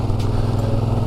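A car engine labours under load while climbing a mountain road past icy volcanic peaks in Iceland, a steady low droning rumble that holds close and loud throughout with no talk.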